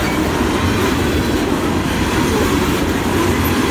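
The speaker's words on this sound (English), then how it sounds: "It's a coal train, I think." A heavy CN coal freight train rumbles past close by, a steady loud roar of wheels and rail noise with faint clatter, no voices.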